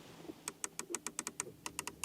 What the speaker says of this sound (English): nice clicking sounds here for the climate unit, manual to control